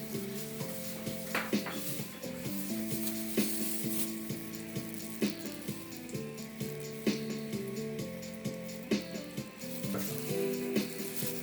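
Oil sizzling and frying steadily in a hot pan on a stove, a continuous crackling hiss with small pops, accompanied by occasional clinks of a utensil against the pan as a spicy curry turkey masala gets underway.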